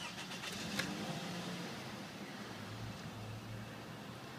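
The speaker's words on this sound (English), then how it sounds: "So I'll just quickly turn the car on for you." A 2007 Toyota RAV4 engine cranks with a brief rattling burst, catches, and settles into a low, steady idle, fairly quiet and close.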